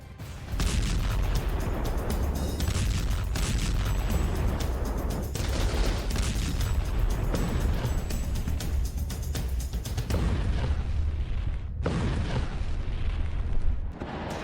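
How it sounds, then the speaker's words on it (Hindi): Heavy booming blasts of artillery cannon fire in the Russia-Ukraine war roll and overlap in a dense, sustained barrage, with deep rumbling thuds and crackling bursts throughout. "तोप का दम दिखा"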